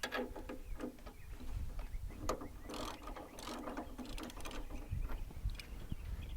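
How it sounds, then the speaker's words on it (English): A classic VW Beetle alternator or generator pulley being loosened with a hand tool, rapid ratcheting clicks in bursts, close and moderately loud. "loosen up your alternator or generator pulley"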